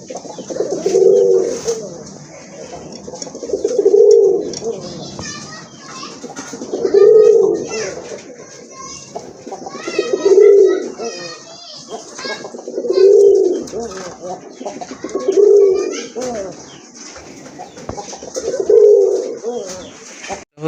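Large pigeons coo in a steady, repeating rhythm, each deep rolling call swelling every few seconds, close and clear, with a voice talking between the calls.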